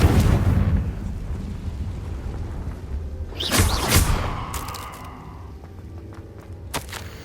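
Fire spell explosions in the Hogwarts Legacy video game, with a heavy booming blast near the start, another burst around the middle, and a sharp pop near the end over a low rumbling game soundscape.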